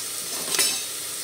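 Crushed garlic fries in hot oil until golden brown, giving a steady, close hissing sizzle with one brief stir-scrape partway through.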